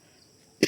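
A single short, sharp cough from a person with a cold and phlegm, close and loud after near silence.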